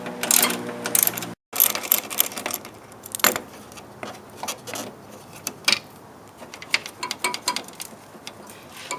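A wrench works a 10mm bolt loose on a Jeep front bumper, with steady metallic ratcheting clicks and scraping clatter up close, rhythmic and busy throughout, with no speech.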